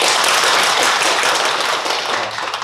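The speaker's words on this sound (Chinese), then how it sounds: "一定要拿出感恩的掌声送给我们的黄总" An audience gives applause of thanks at a Chinese-language lecture, a loud, dense and continuous clapping that stays strong throughout and eases slightly at the end.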